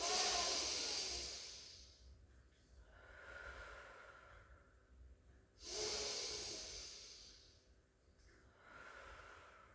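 Slow, deep breaths during a gentle pilates session, long airy inhales and exhales rising and falling close by, with quiet pauses between them.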